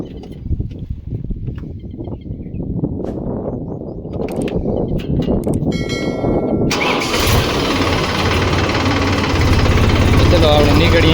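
A tractor with a punctured tyre cranks and its engine catches and settles into a loud, rough running rumble, after earlier clattering and voices talking nearby.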